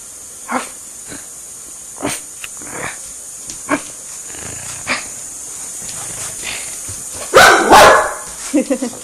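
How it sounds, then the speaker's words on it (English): A cattle dog playing with acorns gives a series of short, sharp barks spaced a second or so apart, then a louder, rougher burst of barking near the end, all close by. "let's get you to bark"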